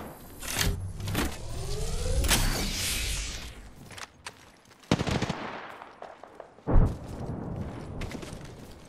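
Gunfire in the Apex Legends battle royale shooter arrives as scattered shots and short bursts amid dense, rumbling game noise, with one heavy boom standing out near the end.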